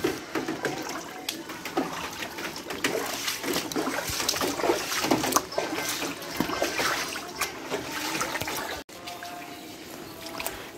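Feet wade through ankle-deep floodwater on a street, a steady close-up splashing and sloshing that runs continuously throughout.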